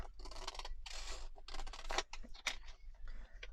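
Scissors snipping the corners of a paper tag for a junk journal, a few short crisp cuts and papery rustles, close and quiet.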